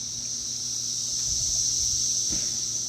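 Cicadas drone in a loud, steady high-pitched buzz outdoors beside a backyard grill, continuous through the clip, with a few soft low knocks and handling noises underneath.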